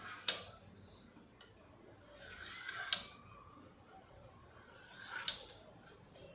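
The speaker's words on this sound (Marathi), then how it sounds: "आता आपलं हे ताट थंड झालं तर मी आता ह्या वड्या अशा कापून घेते" A knife slices surali vadi on a plate, giving three sharp, separate clicks against the plate a couple of seconds apart over a quiet kitchen background.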